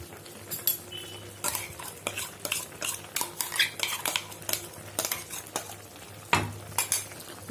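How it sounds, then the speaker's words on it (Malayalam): A spoon scrapes and clatters against a pot while ground coconut is stirred into a soya chunk kurma curry, with an irregular run of close, fairly loud strokes and knocks over a faint background sizzle. "ഇതെല്ലാം കൂടിയിട്ട് നന്നായിട്ടൊന്ന് യോജിപ്പിച്ച് കൊടുക്കുക"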